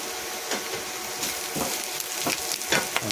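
Curry leaves crackle and fry with browned onion in a pan, a steady close sizzle broken by sharp spatters and pops, louder toward the end, with no talking.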